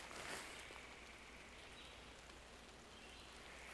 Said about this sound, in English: Oh, it's starting to rain, guys.